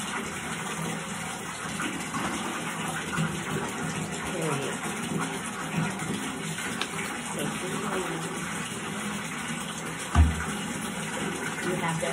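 Water runs steadily from a bathroom tap during a skin care routine, a continuous moderate rush that holds through the whole stretch, with a brief louder knock near the end and faint voice-like murmur underneath.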